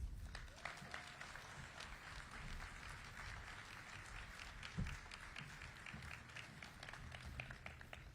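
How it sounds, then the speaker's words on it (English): Audience applause at a state governor's unveiling of a transit-oriented hub, steady distant clapping spread evenly through the room, faint and continuous with no voices over it. "You all deserve a round of applause"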